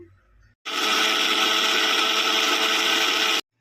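A mixer grinder blends amla, curry leaves and pepper with a cup of water into a fine paste, roaring loud and steady for about three seconds before cutting off abruptly.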